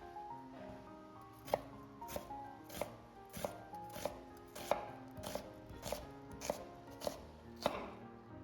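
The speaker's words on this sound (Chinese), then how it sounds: "準備一個洋蔥切成絲" A knife chops an onion into strips on a cutting board, about eleven sharp, evenly spaced thuds arriving roughly every half second, close and clear over a quiet kitchen.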